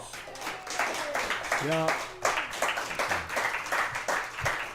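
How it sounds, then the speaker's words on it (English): Scattered clapping from a live show audience, uneven and moderately loud, mixed with cheering and voices, and one person calls out briefly. "Give him another round of applause."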